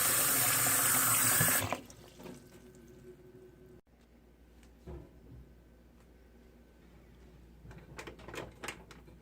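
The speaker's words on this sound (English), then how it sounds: "go fill up your pot 3/4 of the way full with warm water" Running tap water pours loudly for under two seconds, then stops, leaving quiet clinks and small clatters nearby.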